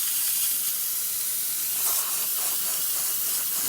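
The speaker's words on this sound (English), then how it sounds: "And now for the steamer." The steam wand of a Rocket Espresso Milano machine hisses in a continuous, bright, airy jet, steady and close for the whole stretch, with no talk over it.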